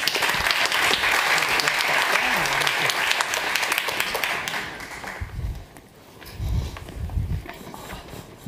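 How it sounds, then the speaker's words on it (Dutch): An audience at a science café panel on cancer research applauds. The dense clapping lasts about five seconds, then fades into scattered claps, shuffling and murmured voices. "Applaus."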